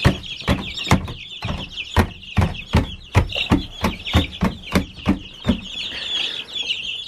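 Young chicks cluck outdoors on a cold, snowy morning after their first night outside, giving a steady run of short, sharp calls about twice a second that sound close and fairly loud.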